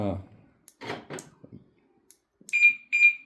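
A key fob alarm for a 2022 BMW R18 B motorcycle gives two loud, sharp electronic beeps near the end, following a few moments of someone talking.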